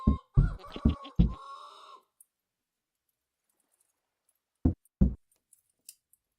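Chickens cluck in the video game Vintage Story, a few short clucks close up at the start, then near silence broken by two more brief clucks.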